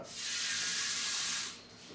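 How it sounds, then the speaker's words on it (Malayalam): Water is poured into a pressure cooker holding washed tapioca for kappa puzhukku, making a steady, bright, hissing rush for about a second and a half before it tapers to a faint trickle. "കുറച്ച് വെള്ളം ഒഴിക്കുക."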